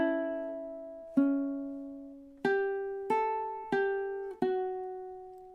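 Measure 2 of a song played on ukulele: a held note, then a short run of five plucked notes in steady time, each ringing out and fading, close and solo with no voices.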